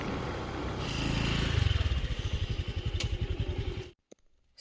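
A scooter engine revs up, then putters in a rapid steady rhythm for a few seconds on the way to a market before cutting out abruptly, close and fairly loud.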